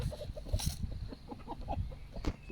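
Battery hens cluck softly in a farm setting, a busy cluster of short low calls with a couple of sharper squawks, moderately near and without talk.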